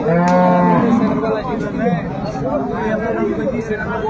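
Cows moo loudly and close at a cattle market in Ambari Haat, Dinajpur, with a long low bellow at the start over a busy crowd of chattering voices throughout.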